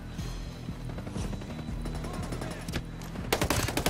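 Continuous automatic gunfire from a gun that won't stop firing in Ghost Recon, a dense run of rapid shots that grows louder and sharper toward the end.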